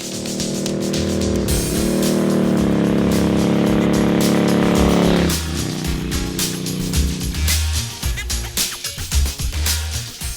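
Rare classic Ducati 900 Darmah SSD bevel-twin motorcycle being ridden, a loud steady engine drone holding pitch for several seconds, then dropping off into rougher, lumpier rumble with wind noise, close and continuous.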